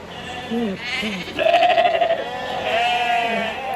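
Sheep bleat repeatedly, several wavering calls overlapping and following one another at close range, loud and insistent with no other sounds.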